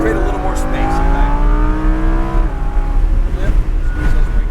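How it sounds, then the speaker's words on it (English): A Lamborghini Huracan engine rolls onto the gas coming out of a corner on a track, the loud in-cabin drone rising in pitch and then easing back, with people talking over the engine noise. "I'm gonna start slowly rolling on that gas, coming out here."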